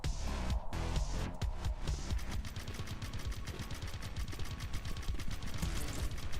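Rapid bursts of gunfire-like blasts and clattering explosions from a fighting video game, loud and close, with quick repeated impacts forming a dense rhythmic barrage and no speech.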